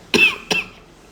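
Two short, sharp coughs in quick succession, close to the listener, followed by near silence.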